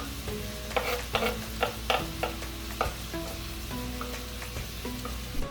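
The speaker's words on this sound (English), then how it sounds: "now I'm going to take my minced garlic and throw it in, half of it in there with it" Minced garlic frying in a pan for lemon chicken, a bright steady sizzle punctuated by quick scraping stirs, especially in the first couple of seconds.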